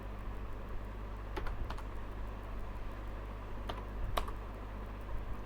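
Quiet clicks from a computer keyboard as Java code is typed, a few sparse keystrokes and short bursts over a steady background hum, close but faint.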